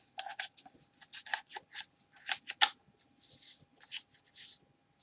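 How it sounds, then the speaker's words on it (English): Paper is folded tightly around a tube for a homemade seed-starting pot, giving crisp, close crinkling and creasing rustles in short irregular bursts. "And you fold it as tight as you can get it."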